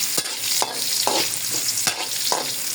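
Ginger sautés in a pan for tinola with pork bones, giving a steady, loud sizzle that fills the room. It is broken by several scraping stirs of a utensil, and no one speaks.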